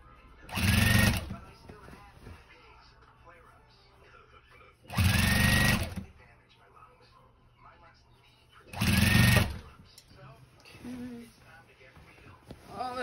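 A sewing machine quilts a heavy quilt-as-you-go denim blanket, guided along the edge of the presser foot. It gives three short, separate runs, with a person talking quietly between them.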